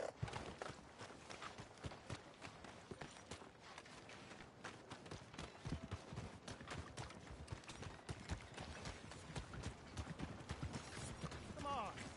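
Horse hooves clip-clop steadily in Red Dead Redemption 2 as the animal moves across the countryside. The quick, rhythmic thuds are fairly quiet and continuous, with faint voices murmuring underneath.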